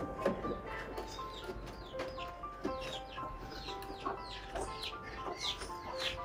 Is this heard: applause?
no